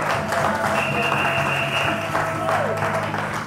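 A church congregation applauds and acclaims the Lord, with steady sustained clapping filling the room, mixed with voices and sustained musical tones in the background.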